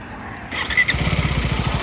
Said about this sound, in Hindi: बाइक स्टार्ट करी